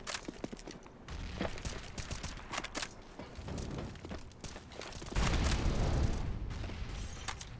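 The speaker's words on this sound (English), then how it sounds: "Tech-9 from that range." Rapid gunfire from a Tech-9 pistol in a CS:GO professional match on the Train map, sharp shots crackling in quick bursts amid other weapon fire and game noise, fairly loud and continuous.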